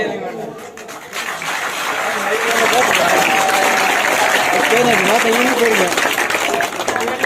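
An audience at a science college performance in Ashkot, Neelum district, gives sustained applause, dense crowd clapping that swells and stays loud, with voices and a whistle-like tone sounding through it.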